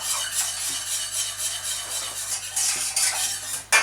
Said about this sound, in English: So I'll just keep whisking away.